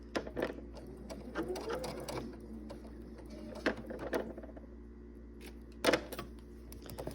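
A sewing machine stitches Drunkards Path quilt pieces in short, fast bursts of needle chatter with pauses between them, close and fairly quiet over a low steady hum.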